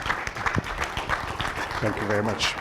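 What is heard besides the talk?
audience applause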